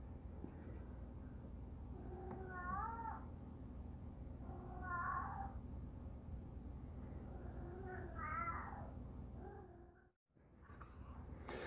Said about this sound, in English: The cat is talking to me.